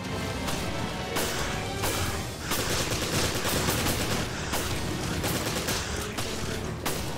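Sustained, dense gunfire in the Resident Evil video game, loud rapid bursts of shots and impacts running nearly nonstop for several seconds with no talk.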